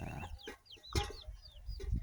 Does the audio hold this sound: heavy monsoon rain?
no